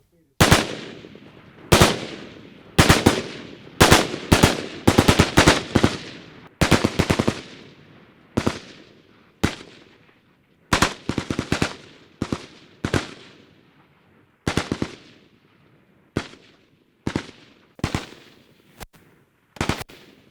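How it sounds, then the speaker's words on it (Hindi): An INSAS LMG light machine gun fires in repeated short bursts on a training range, loud, sharp volleys separated by brief pauses and echoing away after each burst, continuing for about twenty seconds. "इस वक्त जो हथियार इनके पास है यह है इंसास LMG, जिसकी ट्रेनिंग इनको दी जा रही है।"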